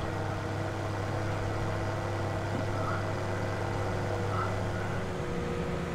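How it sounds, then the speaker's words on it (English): A tractor engine in Farming Simulator drones at a low, steady pitch while hauling a trailer, holding an even hum throughout with no speech over it. "This is a lovely tractor. I do enjoy this, driving this one."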